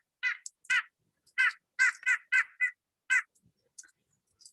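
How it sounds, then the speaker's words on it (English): Nasal, honking calls of a nuthatch played back from a bird sounds website, about eight clear, evenly spaced notes followed by a few fainter ones, heard alone and up close. "So here is our nuthatch."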